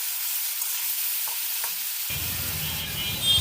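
Potato and eggplant pieces sizzle in hot oil in a pan as they are stirred, starting quietly before a louder burst of frying that stays close and steady with scraping stirs.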